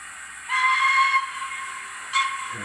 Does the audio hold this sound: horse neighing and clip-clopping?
no